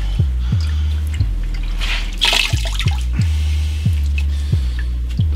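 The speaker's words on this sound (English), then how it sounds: "Now, you gotta wring them out." Wet tie-dyed fabric is wrung out over buckets: close, wet squishing with water splashing and dripping down, marked by a series of soft, regular thumps.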